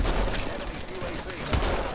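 Dense, continuous gunfire rattles in the video game Call of Duty: Advanced Warfare, loud and steady with a heavier burst near the end, and a voice partly under it.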